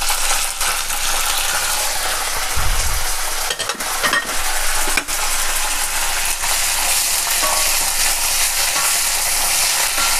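Garlic and curry leaves fry in hot oil for a gongura dry fish curry, giving a steady, loud sizzle with crackles throughout and a brief stirring clatter near the middle.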